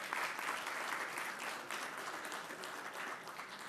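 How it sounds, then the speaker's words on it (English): Audience applause at an expo presentation session, a dense, steady wash of many hands clapping throughout, moderately distant and sustained without pause. "A round of applause, please, ladies and gentlemen."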